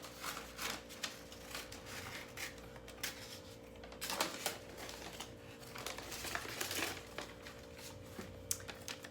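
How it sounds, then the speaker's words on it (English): Scissors cutting an oval out of newspaper, producing soft, close crinkling and rustling paper sounds with repeated snips and shifting of the sheet, steady and fairly quiet throughout. "So I'm going to use my newspaper and cut out an oval."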